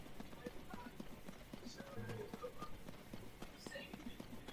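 Stabled horses in the Zelda Tears of the Kingdom video game clop their hooves in a quiet, irregular patter, with soft snorts and shuffles against low game ambience.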